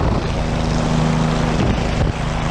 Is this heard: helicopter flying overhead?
yes